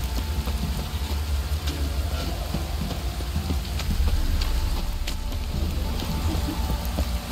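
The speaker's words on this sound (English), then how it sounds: "Looks like rain." Steady rain in The Witcher 3, a continuous broadband hiss of falling drops that holds at an even, moderately loud level throughout with scattered small patters and no voices.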